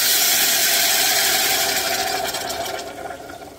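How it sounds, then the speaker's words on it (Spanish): Water is poured over a sofrito in a pot on maximum heat, giving a loud, steady, broad hiss that gradually eases and fades toward the end. "ahora voy a subir el fuego al máximo y le voy a añadir agua"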